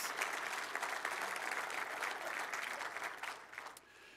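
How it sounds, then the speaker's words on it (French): A congregation in a French-speaking church breaks into warm applause, a full, steady wash of many hands clapping that holds for a few seconds, then quickly dies away. "Oui, on peut applaudir, je suis reconnaissant pour notre église."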